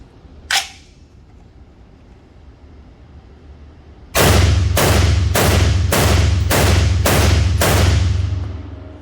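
A SCAR 16 rifle fitted with a SCARburator Gen2 fires seven sharp, loud shots in a rapid, even rhythm after a quiet stretch with one small click near the start.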